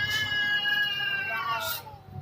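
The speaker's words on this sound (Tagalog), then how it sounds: "Nag-aasawang pusa, oh." Cats caterwauling while mating, two tomcats by the sound of it, their drawn-out wavering yowls carrying steadily and fairly loud, with brief human voices underneath.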